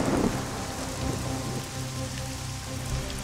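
Steady rain falls in a video game, a dense even hiss of drops on surfaces throughout, moderately loud with no voices.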